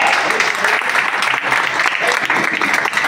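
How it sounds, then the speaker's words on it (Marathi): An audience claps loudly and continuously for two children receiving prizes at a ceremony, a dense, even wash of applause with no break. "त्या दोघांसाठी पुनश्च एकदा जोरात टाळ्या जोरात."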